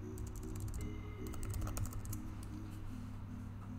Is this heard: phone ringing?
no